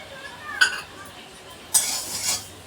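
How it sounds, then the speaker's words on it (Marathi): Mustard seeds heat dry in a hot kadhai while being made into raw mango pickle, heard as a short rattling scrape followed by a longer burst of gritty stirring against the metal, fairly close. "आता ही मोहरी मी गरम करून घेते."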